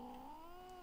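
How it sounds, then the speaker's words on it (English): A female cat in heat yowls in one long, drawn-out wavering cry, close and steady, with no talking over it. "That's a cat."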